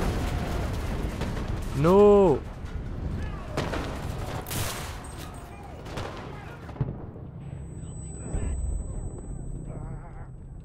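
Light machine gun fire crackles through a D-Day beach invasion in Enlisted, bursts of gunfire and distant blasts under chaotic battle noise while a voice shouts and talks over it.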